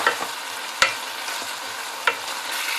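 Masala with soft tomatoes frying in oil for aloo baingan gives a steady close sizzle, broken twice by sharp clinks of a stirring spoon against the pan.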